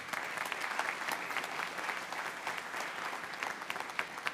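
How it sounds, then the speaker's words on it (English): A congregation applauds visitors at a Baptist church anniversary service: steady, dense clapping that carries evenly for several seconds, with no talk over it. "can we give our distinguished visitors one more round of applause?"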